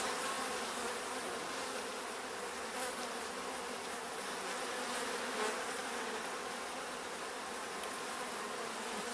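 Honeybees buzz steadily in an open hive during an inspection, with no smoke used, a dense, even hum close to the frames that holds constant throughout with no talk.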